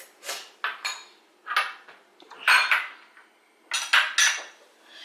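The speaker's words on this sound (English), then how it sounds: "So we're going to take our time and saute this." A utensil scrapes and clinks against a Ninja pressure cooker pot while onions and bell peppers are stirred during sautéing, in several separate bursts of close metallic scraping, with no talk.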